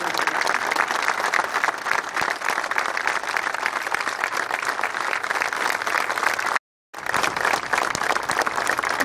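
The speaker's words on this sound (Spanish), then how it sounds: "le podemos dar un fuerte aplauso" Strong, sustained audience applause at a hospital tribute ceremony in Berazategui, dense clapping that fills the space, briefly cut by a moment of silence before resuming.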